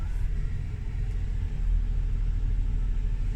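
Hire car creeping up a driveway toward a garage, a steady low engine rumble and tyre roll close by, even and unbroken throughout with no voices.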